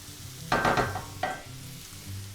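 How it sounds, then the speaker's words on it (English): Butter melts in a pan for mushroom stroganoff, giving a soft quiet sizzle with two brief bursts of stirring noise. "Gonna let that butter melt"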